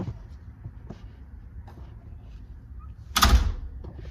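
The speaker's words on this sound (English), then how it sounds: "Now we'll just close the door." A house door with a newly tightened doorknob swings shut: faint shuffling and small taps, then one solid close thud with a latch click near the end, close by and with no voices.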